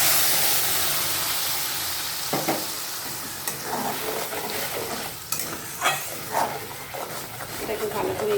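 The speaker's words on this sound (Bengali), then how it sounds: "এটাকে ভালো করে এইভাবে কষিয়ে নেব কিছুটা।" Chopped pineapple with chilli powder, turmeric and salt sizzles steadily in a hot pan for chutney, with a spoon scraping through it in irregular strokes, close and loud, while a voice talks over the cooking.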